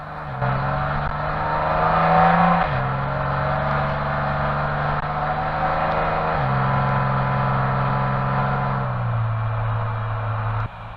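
BMW E46 automatic on a test drive, its engine droning steadily close by with a few clear drops in pitch as the transmission shifts up through the gears, no talk.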